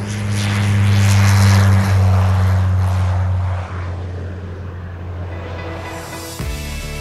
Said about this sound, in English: The test plane, which flies 14 kilometers above the Earth, is completely controlled from the ground.